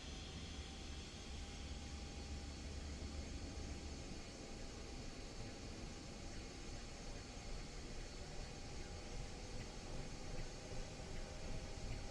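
Simulated twin turbine engines of a Bell 222B helicopter in a flight sim game spooling up: a steady, dense whine and rushing roar with a faint high tone, constant and loud throughout with no talk.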